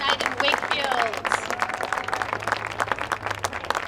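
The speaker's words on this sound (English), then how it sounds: "A round of applause for these incredible athletes here tonight" Crowd clapping at a girls varsity soccer senior night in Wakefield, scattered claps rising over a continuous low hum, with a loudspeaker voice and shouts mixed in near the start.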